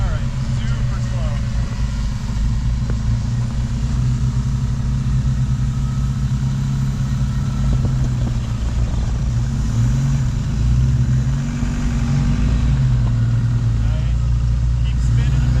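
A vehicle stuck on a stump in snow runs its engine in a steady low rumble as the tires keep spinning, loud and continuous throughout, with people talking over it.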